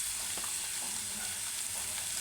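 Onions sizzle steadily in a little hot oil with salt added, a dense, continuous frying hiss heard close and alone for a couple of seconds.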